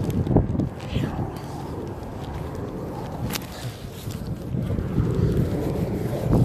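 Gusty wind buffets the microphone with low, rumbling blasts rising and falling, outdoors, with faint movement sounds underneath.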